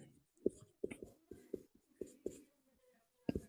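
Chalk or marker writing out a physics formula for potential difference, a close run of sharp irregular taps and short scratchy strokes with brief pauses between them.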